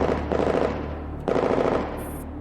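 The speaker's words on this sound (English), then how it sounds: "The air resounds with fierce gunfire." Fierce gunfire in an audio drama battle, two loud rapid machine-gun bursts close by, the second beginning just after the first dies down, with a brief high electronic tone at the end.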